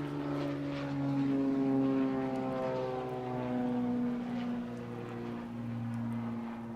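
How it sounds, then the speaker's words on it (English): A propeller airplane drones steadily overhead, its low, harmonic engine tone swelling and easing slightly across the whole stretch with no talking. "Wait for the airplane to go over here."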